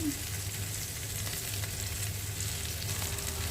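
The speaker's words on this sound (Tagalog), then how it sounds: "ginisa ko yung karne sa butter" Meat sautéing in butter with spices, a continuous even sizzle up close with faint stirring scrapes and a low background hum, no speech.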